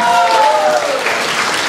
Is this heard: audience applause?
yes